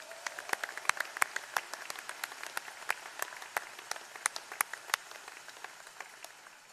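Scattered, fairly faint clapping from a graduation commencement audience in a large hall, sharp individual claps popping out of a thin, steady patter that tapers off near the end.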